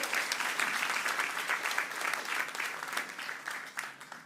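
Audience applause and cheering for the judges at a northern writers' awards ceremony, dense continuous clapping from a sizable crowd with no speech over it.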